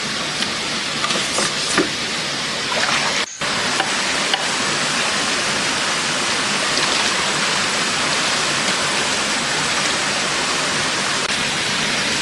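A forest stream rushes beside a waterfall in steady, loud, broadband white-water noise that stays constant throughout, broken only by a brief dropout early on, with no voices.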